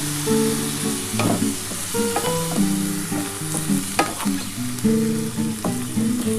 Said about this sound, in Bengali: এই যে পোস্তর জল এটা আমি দিয়ে দিচ্ছি দিয়ে আমি ঢাকা দিয়ে দেবো